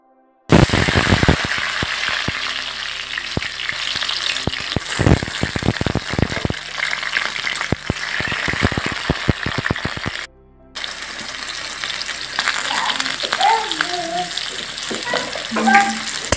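Masala spices with onion and garlic fry in hot oil, giving a loud, continuous sizzle with sharp crackles and stirring scrapes. After a short break the sizzle resumes, close up and without talking.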